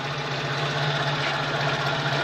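A car engine idles at a steady low hum while warming up, with a constant drone and faint rattling vibration, close and unbroken throughout.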